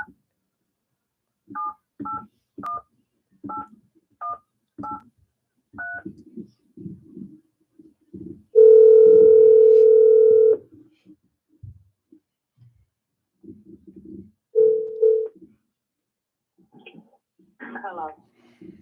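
A phone is dialed with a quick run of touch-tone beeps, followed by a long steady ringback tone and a shorter second tone, with a voice speaking between them.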